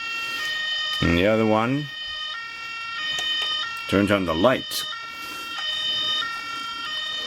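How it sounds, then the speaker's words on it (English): A Playmobil City Action toy fire engine sounds its electronic siren in short wailing bursts, with someone talking between and over the siren calls. "one button turns on the siren"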